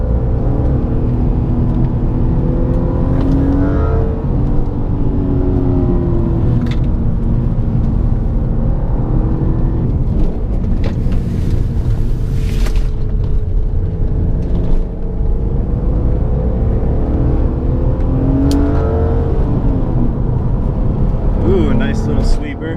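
A BMW E36 M3 engine on a mountain road, droning loudly and steadily with repeated rising and falling pitch as it downshifts and revs through corners, someone talking over it throughout.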